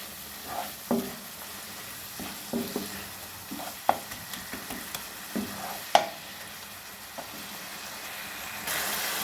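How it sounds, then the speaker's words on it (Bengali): Small mourola fish being stirred while frying in a pan for a chochchori, with scattered scraping and clattering strokes over a low, steady sizzle, close by and moderately quiet. "এবার ভালো করে নাড়তে থাকবো।"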